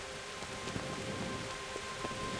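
Steady rain falls through a scene in the medieval RPG Kingdom Come: Deliverance, a soft, even hiss with scattered faint drop ticks, fairly quiet and continuous with no voices over it.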